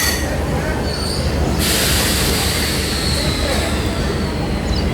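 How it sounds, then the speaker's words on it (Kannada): A DEMU express train rolls into Almatti railway station with a loud, steady rumble of wheels on track and high squealing from the wheels, heard up close from on board. "ನಮ್ಮ ಟ್ರೈನ್ ಎಂಟ್ರ್ ಆಗೈತೆ ಆಲ್ಮಟ್ಟಿ ರೈಲ್ವೆ ಸ್ಟೇಷನಿಗೆ"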